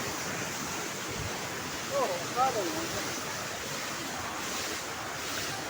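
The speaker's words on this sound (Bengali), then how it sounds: "এটা হচ্ছে সেই ওয়াটারফলটা, পুরো আমরা কাছে আছি। এখান দিয়ে জল আসছে" Steady roar of a silver waterfall and flowing water heard close by outdoors, a continuous broadband rush with wind buffeting the microphone, and a few faint bird chirps in the middle.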